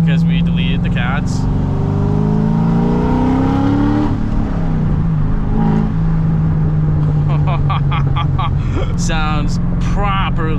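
A C6 Corvette with long tube headers runs loud and close, its exhaust crackling and popping as the revs rise and fall, while a person talks over it.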